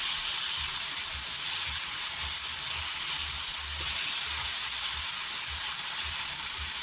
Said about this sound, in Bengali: সিদ্ধ হতে দেই 5 মিনিট লো ফ্লেমে